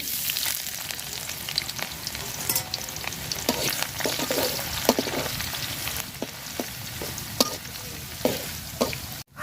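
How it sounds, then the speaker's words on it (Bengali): Chopped onions fry in hot oil in a pot with a continuous, moderately loud crackling sizzle, dotted with small clicks from stirring. "পাতিল গরম হয়ে গেছে তেল দিয়ে দিলাম পেঁয়াজ কুচি দিয়ে দিলাম"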